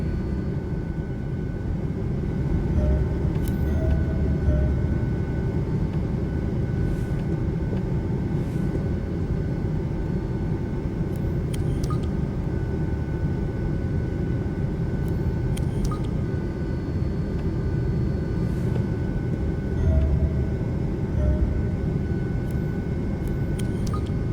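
Airplane cabin in flight from the game D4 Dark Dreams Don't Die, a loud, steady engine drone and rumble with faint occasional clicks, continuous and without voices.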